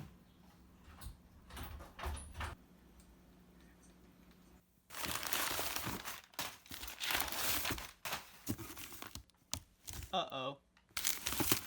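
Packaging from a book manufacturer is unpacked nearby, with bursts of crinkling, rustling and tearing that alternate with quieter pauses, and someone briefly speaks.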